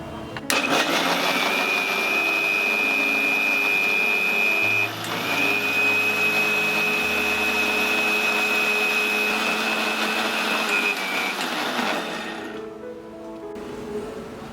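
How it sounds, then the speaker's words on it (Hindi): A kitchen mixer grinder whirs steadily and loudly as it coarsely grinds soaked moong dal with a little water, its motor pitch shifting slightly midway before spinning down near the end. "अब हम इसे ग्राइंड करेंगे।"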